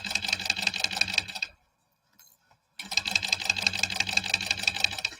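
A sewing machine stitches a quarter-inch seam in quilting fabric with a fast, rhythmic clatter. It runs, pauses briefly in near silence, then starts again at the same brisk pace.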